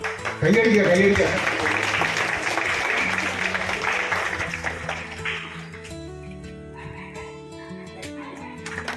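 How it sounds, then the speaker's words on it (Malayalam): Audience applause at a community organisation branch stage event, a burst of clapping rising loudly at the start then fading over several seconds, with voices and noise around it. "കൈയടിക്കുക"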